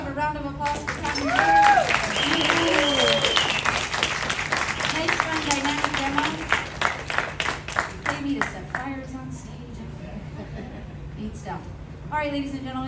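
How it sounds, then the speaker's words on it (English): Applause and clapping from an audience after a glassmaking demonstration at a glass museum, steady through the clip, with some voices and speech mixed in over the top. "let's have a round of applause"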